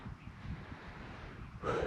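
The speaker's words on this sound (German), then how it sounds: "Auf einmal fängt hier der Wind extrem an zu wehen." Strong mountain wind above 2000 metres on the Zugspitze via the Reintal rumbles across the microphone in a low, buffeting roar that surges louder near the end, with no speech.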